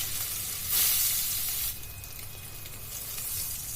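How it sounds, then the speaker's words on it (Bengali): Rohu fish pieces marinated in salt and turmeric frying in mustard oil, a steady close sizzle that surges briefly louder before settling into a continuous crackling hiss, with no voices. "এই সরিষার তেলে মাছ কিন্তু খুব ভালোভাবে ভেজে নেব"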